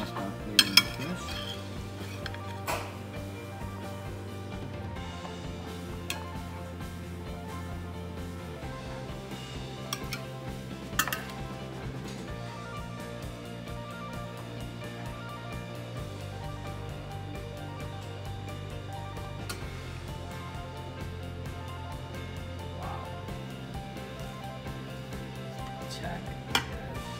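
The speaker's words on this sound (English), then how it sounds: "So I'm gonna start plating the fish." Plates and cutlery clink intermittently while blackened scrod and shrimp skewers are plated, soft scattered clinks over a low steady background hum.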